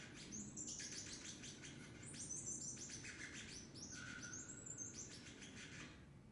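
A songbird sings a recorded song of repeated high chirps and trills in phrases over a steady hiss of background noise, faint and continuous with no talking.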